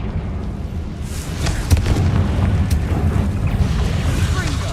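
A Confringo explosive spell blast in Hogwarts Legacy erupts as a loud, sustained booming rumble with a sharper burst partway through, heavy and close.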